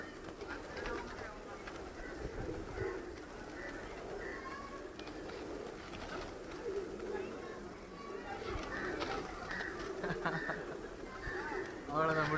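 Pigeons cooing and fluttering around while being fed at a roadside spot on a trip from India to Nepal, soft low coos over a continuous busy outdoor ambience with people talking nearby throughout.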